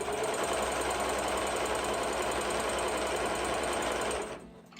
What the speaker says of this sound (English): I push them down as I'm sewing, so it goes over that.